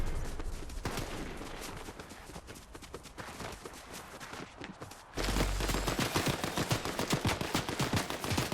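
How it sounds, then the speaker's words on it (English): Gunfire in a video game, dense bursts of rapid shots crackling in quick succession, growing louder and denser partway through, with no voice over them. "Now where are they shooting from?"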